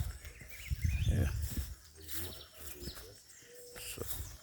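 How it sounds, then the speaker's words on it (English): Birds calling outdoors in bushland, scattered chirps and coo-like notes at moderate distance, mixed with soft rustling and low background noise. "So nice birds flying."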